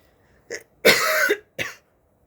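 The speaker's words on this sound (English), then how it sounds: "I'm just clearing my throat a lot. I am coughing some, just not as much." A person coughs and clears their throat in three quick bursts, close and fairly loud, the middle one longest, with silence between.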